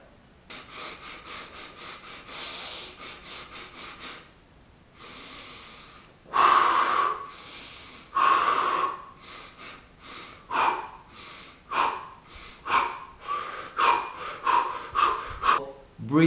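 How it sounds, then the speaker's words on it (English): Deliberate breathing, done as a nutrition and meditation practice, sounds close and clear. A run of slow, forceful inhales and exhales comes with sniffs and snort-like rushes of air, each breath a separate loud swell. "The next way of nurturing ourselves is by breathing."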